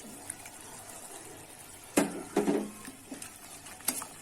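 A spoon stirs sweet and sour sauce thickened with cornstarch in a pan, meant for tilapia, giving a few faint scraping strokes and soft liquid sloshes over a quiet room.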